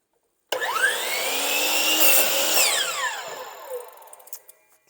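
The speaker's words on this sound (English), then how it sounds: "I'm going to back my piece of wood up against the fence, and this is the fence of the miter saw here, and it's going to get noisy." A miter saw slices through a piece of wood braced against its fence: a loud motor whine spins up, bites through the cut for about three seconds, then winds down with a descending tone and fades out, with no talking.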